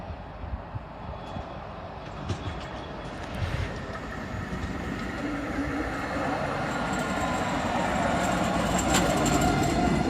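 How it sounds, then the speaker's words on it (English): A tram passes the Bulwell Forest level crossing in Nottingham, a broad rumbling rail noise that swells steadily as it draws closer, with faint clicks and squeaks over the top. "There's my tram."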